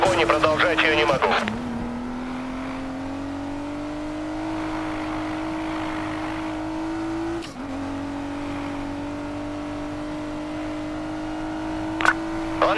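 A speeding car in a police chase in Need for Speed Payback, with a loud, sustained engine whine holding a steady pitch after a brief gear shift, broken by a short dip midway and a sharp knock near the end.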